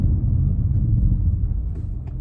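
Low, steady engine rumble from a 2021 Audi RS6 being driven on UK roads, heard from inside the car as a continuous heavy drone with no talking.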